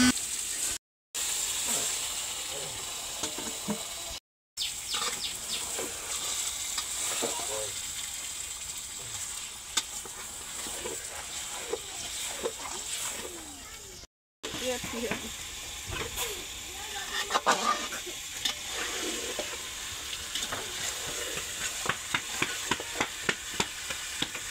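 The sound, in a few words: chicken sautéing with spices in a pan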